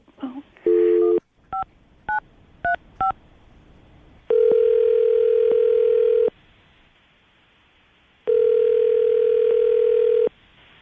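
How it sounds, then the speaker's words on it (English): A handset hums faintly, then a series of short beeping dial tones, followed by two long steady ringback tones separated by a pause. "I'm going to dial Kenny's phone number right now, see if we can get him on the phone"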